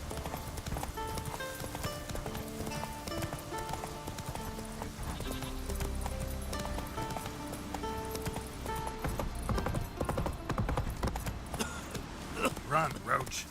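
Roach the horse gallops in The Witcher 3, steady clip-clop hoofbeats under game music and ambience, with a person talking over it.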